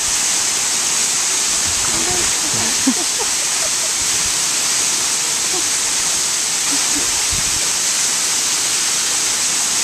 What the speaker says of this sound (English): And this awesome waterfall.